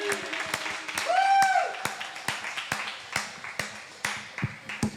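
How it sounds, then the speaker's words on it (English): Scattered claps from a small open mic crowd at Jirani Coffeehouse welcoming performer Angie, spaced individual hand claps with a brief tonal ringing sound early on. "please give a round of applause to"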